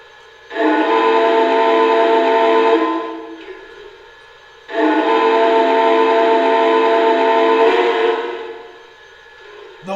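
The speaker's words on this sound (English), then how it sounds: "The whistle's actually very cool. It's got two tones." Two long, loud blasts from the steam whistle of a Lionel Lionmaster Union Pacific Challenger model train, each a rich chord-like tone holding steady for about three seconds before fading, close and with no talk.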